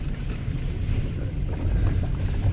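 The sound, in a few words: Nissan X-Trail driving slowly through a water-filled hole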